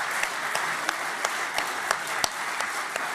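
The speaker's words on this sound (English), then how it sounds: "a round of applause and a few cheers for Kirsten" Conference audience at a UKIP party gathering applauding steadily, a dense wash of clapping from a large crowd with a few sharper individual claps standing out, no speech.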